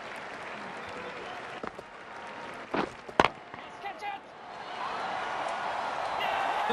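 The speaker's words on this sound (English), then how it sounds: "The crowd are on their feet." Crowd applause swells from a steady roar in a cricket video game, with a few sharp impact sounds midway before the clapping grows louder and fuller toward the end; a commentator's voice talks over it.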